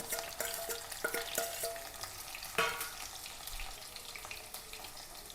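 Onion, green chili, crushed garlic and ginger sauté in a hot pan with a steady close sizzle, broken by a series of sharp spoon or spatula clinks against the pan, all with no talking.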